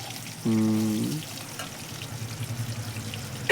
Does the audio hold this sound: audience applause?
no